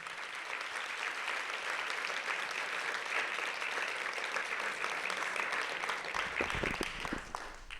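An audience at an art talk applauds steadily as speakers come onto the stage, a dense, even wash of clapping from many hands that holds for several seconds before beginning to thin toward the end.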